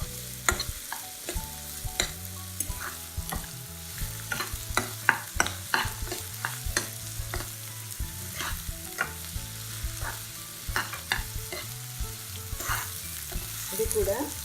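Egg curry being stirred with chili powder in a hot pan, with a constant soft sizzle and frequent sharp scraping clicks of the spoon against the metal, close and steady.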